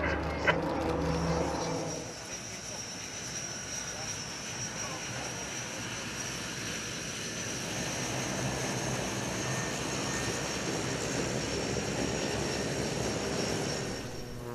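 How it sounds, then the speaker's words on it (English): A Pilatus PC-7 propeller trainer from Zeltweg, Austria, at the Florennes airshow in 2012, droning steadily in a sustained engine tone that stays constant over the whole stretch, with a brief louder burst at the start. "Another PC-7. This one comes from Zeltweg in Austria."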